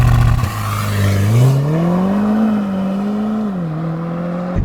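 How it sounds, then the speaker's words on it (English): A 2025 Lotus Emira 2.0T sports car engine revs loud and close, its pitch climbing and dropping as it shifts up through the gears under hard acceleration, with no voices. "I waited to the last second to upshift, and it is a bit of a delay."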